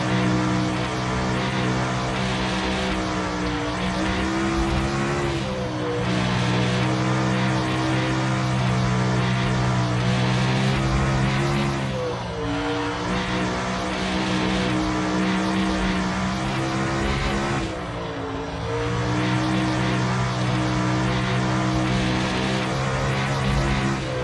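A winged sprint car engine in the iRacing sim race game roars at full throttle, a loud, sustained, steady drone with brief dips every few seconds as it cycles through corners, no talk over it.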